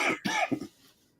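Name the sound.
coughing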